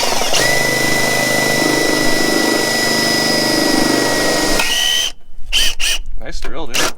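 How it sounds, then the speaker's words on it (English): A power drill whines steadily and loudly while working on a 1986 Suzuki Samurai build, a sustained motor drone that stops abruptly near the end, leaving short bursts of noisy clatter. "Nice drill, dude. You didn't tighten the bit down."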